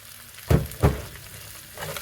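Chicken with fresh parsley gets stirred in a hot frying pan: two sharp scraping stir strokes close together, then a softer third, over a quiet steady sizzle.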